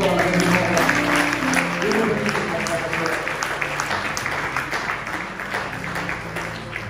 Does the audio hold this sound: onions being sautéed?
no